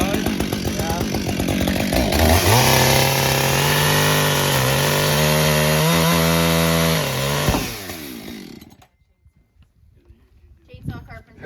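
A chainsaw cuts Sapele wood for boat deck beams in a workshop, revving loudly and steadily for several seconds before cutting off, with faint movement and small knocks afterward.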